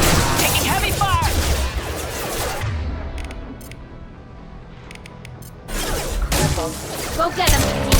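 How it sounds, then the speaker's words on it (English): Gunfire in a Mass Effect 2 combat sequence: bursts of rapid shots and impacts, loud and close, with a quieter lull in the middle and voices shouting over the action. "Taking heavy fire!"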